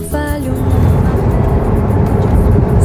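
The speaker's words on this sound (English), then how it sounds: "So we're heading down the road, Mike's new car" A convertible with its top down and a newly fitted windscreen drives along a road, giving a loud steady rumble of engine and rushing wind that fills the whole stretch without letting up.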